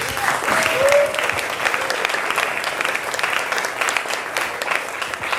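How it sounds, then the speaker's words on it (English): A jazz club crowd gives a big round of applause for student John McCallum of the Mizzou jazz studies program. Thick, continuous clapping from many hands holds steady, with a brief high whistle near the start. "We can give John a big round of applause."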